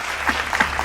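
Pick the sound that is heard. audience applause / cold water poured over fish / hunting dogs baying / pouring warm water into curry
audience applause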